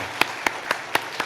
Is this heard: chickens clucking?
no